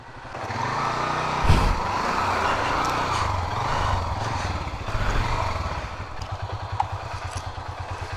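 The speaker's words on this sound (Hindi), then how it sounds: "आ गई जी हमारी बाइक।" A motorcycle rumbles up close on a narrow road in Sindh, its engine steady and loud throughout, with a brief clatter early on and idling pulses toward the end.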